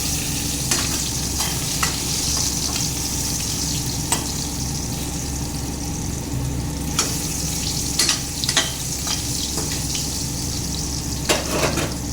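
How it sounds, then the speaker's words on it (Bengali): Potatoes frying in a pan for a mutton dish make a continuous close sizzle, broken by scattered clicks and scrapes of stirring. "আলুগুলোকে ভেজে নিচ্ছি।"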